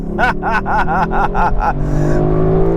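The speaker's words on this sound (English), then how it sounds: "Big, roaring, naturally aspirated V8" A Lexus LC500 with a big naturally aspirated V8 launches hard with some wheel spin, roaring close and loud through several quick rising pulses before settling into a lower steady drone.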